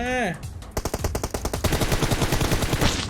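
A rapid burst of automatic gunfire in PUBG Mobile follows a short tonal sound. The loud, evenly spaced shots rattle on for about two and a half seconds.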